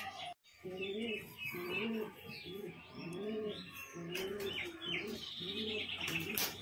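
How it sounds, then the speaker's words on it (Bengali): A flock of domestic pigeons, joined by wild pigeons, feeding together outdoors, with nearby rhythmic throaty cooing repeating steadily and light chirps and rustles around it. "এক ঝাঁক পায়রা দেখে বুনো পায়রাও আসা শুরু করে দিচ্ছে, খাবার খাচ্ছে একসাথে।"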